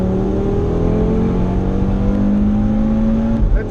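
Audi RS3 accelerating hard on the Nürburgring: loud, continuous engine roar from inside the car, pitch climbing steadily as it revs, then dropping off near the end.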